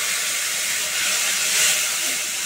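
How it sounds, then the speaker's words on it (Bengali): Water poured onto sugar and ginger spice paste in a hot pan for an omelette curry, giving a loud, steady, bright hiss of steam that holds evenly and swells briefly before easing. "এবার একটু জল দিচ্ছি মশলাটা কষাবার জন্য।"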